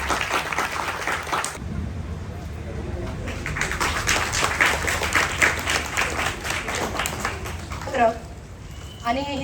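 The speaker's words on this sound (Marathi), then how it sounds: "जोरदार टाळ्या." Hearty audience applause at a Guru Purnima children's program, sustained dense clapping over several seconds with crowd murmur and talk, tapering off toward the end.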